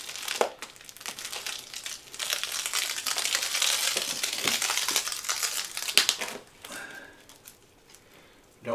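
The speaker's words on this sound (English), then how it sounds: "we're going to use this little cutter thing here to cut this plastic off" A small cutter slices through plastic wrapping on a cooling gel memory foam mattress, giving several seconds of loud, close crinkling and tearing that ends with a few sharp rustles and then quiets.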